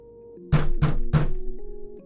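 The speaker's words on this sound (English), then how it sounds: "The knock on the door came sharp and fast." Three sharp, fast knocks strike a door, heavy and close, evenly spaced over a low sustained musical drone that continues afterward.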